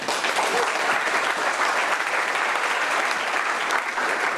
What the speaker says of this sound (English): Round of applause for Luke, ladies and gentlemen